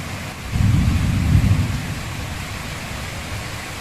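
Steady rain hisses throughout while a deep roll of thunder swells in the first second and a half, then fades back into the downpour.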